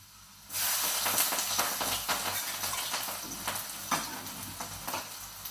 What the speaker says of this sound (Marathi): त्यानंतर आपण चिरलेल्या हिरव्या मिरच्या फोडणीमध्ये टाकून घेऊ